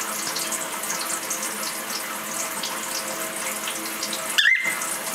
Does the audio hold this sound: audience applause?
no